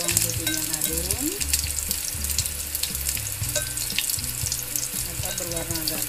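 Garlic stir-frying in a Tupperware Tchef pan crackles and sizzles steadily, with the pan being stirred throughout, close and continuous, and some faint speech in the background.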